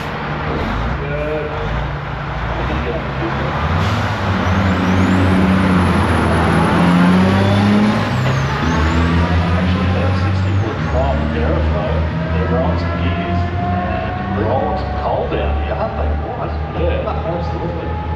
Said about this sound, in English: There's a whole bunch of trucks.